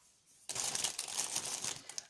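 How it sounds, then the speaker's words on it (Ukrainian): Plastic bag crinkling as a potted violet is set into it, starting abruptly after a quiet moment and continuing as a close, bright, rustling burst for under two seconds. "Зараз ми поставимо її у пакетик."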